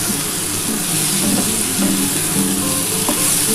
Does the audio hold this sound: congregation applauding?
no